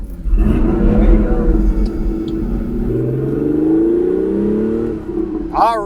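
A 1985 Porsche 930 engine revs hard under acceleration, a loud close rising drone climbing in pitch for several seconds, with a voice calling out over it.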